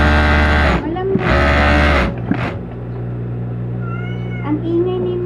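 A cat named Miming meows loudly and insistently up close, two long drawn-out cries followed by a shorter one, then quieter chirping mews over a low background hum.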